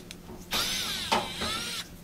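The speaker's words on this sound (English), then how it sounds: "So zipping out these two Phillips head screws" Power driver spinning out Phillips head screws on an LG electric dryer frame in two brief whirring runs separated by a short click, with quiet shop background before and after.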